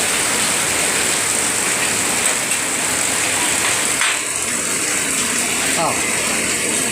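Heavy rain pours down in a dense, steady roar, loud and close. A few voices can be heard faintly beneath it.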